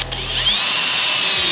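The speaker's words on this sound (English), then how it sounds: "I'm gonna drill a hole real quick" A power drill bores a hole for a Cleco fastener on a car body panel, a steady high-pitched whine that holds loud and close for the whole moment after a brief low start.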